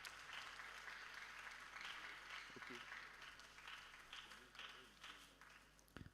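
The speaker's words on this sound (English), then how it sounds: "Please, let's give her a round of applause." An audience at a school mental health event in Osun applauds for several seconds, fairly distant and faint, with a voice briefly heard over the clapping.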